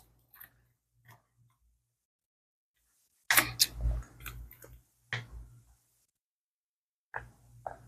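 Someone eats an apple cinnamon rice MRE dessert up close, with crisp crunching bites in short bursts separated by silent pauses.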